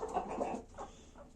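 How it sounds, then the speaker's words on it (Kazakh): Laying hens cluck softly in a farm coop, a few short, faint clucks close by with quiet gaps between them. "Мінекей туып жатқан осы тауықтар."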